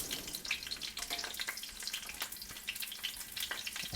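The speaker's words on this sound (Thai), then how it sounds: "กับพอดีมีไส้กรอกอีสานที่เราทำเหลือนะเอามา ทอดรวมกับหม่ำเลยนะครับ" Isan sausage and mam, a fermented beef sausage, frying together in a pan with a steady close-up sizzle, crackle and spattering pops.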